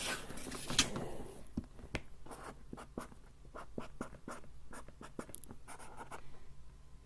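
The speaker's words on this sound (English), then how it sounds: "my favorite thing to label them, in case you haven't figured it out, is just regular 2-inch white masking tape and a Sharpie" A Sharpie marker writing a label on 2-inch white masking tape, with short scratchy strokes repeating in a quick irregular rhythm, close up and quiet, after a brief rustle at the start.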